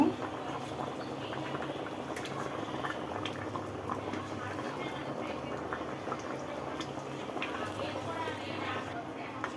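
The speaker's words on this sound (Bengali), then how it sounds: "এই যে এখন আমি মাছ দিয়ে দিব" Fish curry bubbling and simmering in a pan as fish is added, a continuous close boil with light liquid churning throughout.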